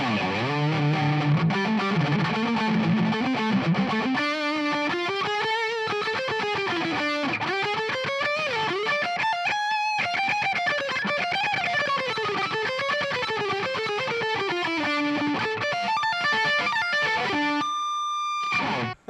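Distorted electric guitar plays a solo on the major scale with no backing track, a sustained, gliding line of bends and runs, loud and continuous, ending abruptly.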